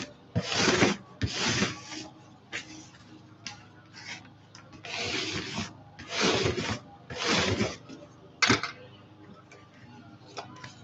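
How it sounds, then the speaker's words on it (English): New tape is burnished down onto fabric tape by hand, giving several short bursts of dry rubbing and rasping with brief pauses between strokes, close and fairly loud. "And we'll burnish."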